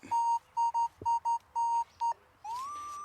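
A metal detector with a small coil gives a run of sharp, clear electronic beeps at an even rate, seven short pulses followed by a longer rising tone, close and distinct outdoors at an old 1700s mill site.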